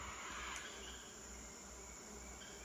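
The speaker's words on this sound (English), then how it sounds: "You listen closely, you'll hear the bees on this flowering tree." Bees on a flowering tree in the Peruvian jungle give a faint, steady buzzing drone that runs unbroken through the short stretch of quiet forest air.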